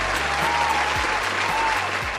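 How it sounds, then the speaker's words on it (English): Applause breaks out for a show's video editor as steady, dense clapping. It sits over a low sustained musical drone and lasts a couple of seconds. "Give him a round of applause."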